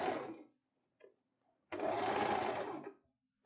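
Two bursts of sewing machine stitching on a wrap tank top: a short run that fades, brief faint handling noises, then a longer steady close-up run of about a second and a half before stopping.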